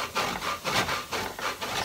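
Parmesan cheese rubbed against a grater for a quiche filling, a steady rhythmic rasping in repeated strokes, close and fairly quiet, with no talk.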